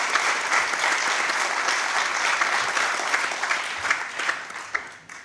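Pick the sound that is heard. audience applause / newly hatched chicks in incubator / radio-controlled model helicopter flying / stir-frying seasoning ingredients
audience applause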